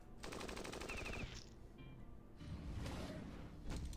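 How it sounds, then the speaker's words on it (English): Rapid machine gun bursts in a video game, loud and continuous for about a second, then further choppy firing and impacts through the rest. "Okay, machine gun."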